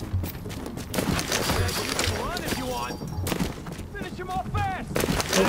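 Submachine gun fire in the video game The Division, rapid bursts of shots repeating through a busy mix of game effects, with people talking over the action.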